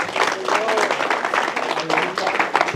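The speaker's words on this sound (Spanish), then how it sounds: "para dar otro aplauso fuerte al Rey de Reyes" Congregation applauding strongly during a Spanish-language Bible study service, a dense, steady wash of many hands clapping together that carries on for the whole stretch at full strength, filling the room.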